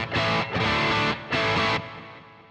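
An electric guitar run through the X high gain amp model of a BOSS GT-1000 hits three heavily distorted chord bursts separated by short gaps, loud and close, with the last one decaying away.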